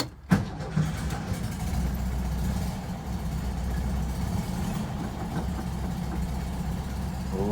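A 1966 VW Bus engine cranks and catches with a brief clatter, then settles into a steady, even idle at moderate volume with no voices.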